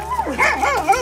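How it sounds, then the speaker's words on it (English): Dogs bark and yip repeatedly at close range, a burst of excited barking with whimpering tones at a home arrival. "There's the dogs."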